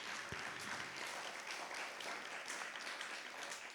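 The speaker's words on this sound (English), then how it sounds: "Let's give another round of applause for these candidates this evening." A faint, steady round of applause from an audience at a county commission and state house candidate forum, even clapping throughout at a distance.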